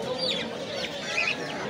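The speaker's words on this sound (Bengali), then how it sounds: "এখানে দেশি মুরগি রয়েছে।" Native chickens cluck at a busy poultry and bird market in Fatullah, Narayanganj, with several short rising calls over a low crowd murmur.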